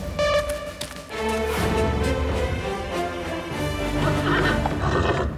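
Horses neighing, loud and close, with several whinnies and snorts overlapping in quick succession amid other busy background sound.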